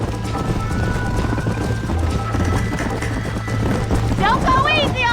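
Horse galloping in Red Dead Redemption during a race, a steady rapid clip-clop of hooves under a rider's voice and game sound, with a brief whinny near the end.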